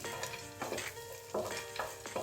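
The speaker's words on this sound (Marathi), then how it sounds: "आपण ड्रायफ्रूट पण थोडंसं तुपावर परतून घ्यायचं आहे" Cashew and almond pieces roast in ghee alongside dates, giving a soft crackling sizzle with a few scraping stirs of a spoon at irregular intervals, quiet and close with no talking.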